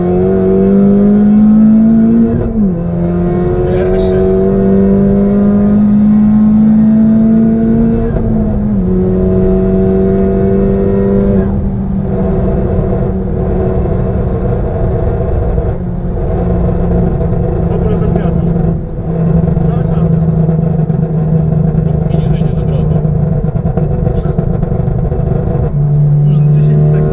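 A heavily tuned, very loud Honda with an aftermarket downpipe revs hard and accelerates, its engine note sweeping up and down through repeated pulls and holding a sustained roar close by.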